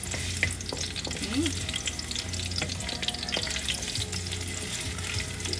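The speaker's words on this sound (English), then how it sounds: "when it comes to ginger and garlic, you want to give it a nice fry" Steady sizzling of ginger and garlic frying in a pan for pepper chicken masala, with occasional clinks of stirring; a voice briefly speaks once.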